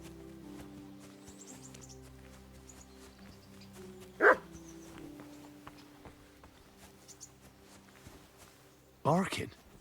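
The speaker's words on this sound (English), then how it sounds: "Barking." In Kingdom Come: Deliverance 2, a dog gives a single short bark at mid-range, followed by a louder burst near the end, heard over ambient game sounds and music.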